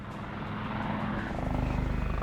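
A British military helicopter's engine and rotor roar continuously in a combat zone near Basra, Iraq, with a low rhythmic thumping that grows slightly stronger toward the end.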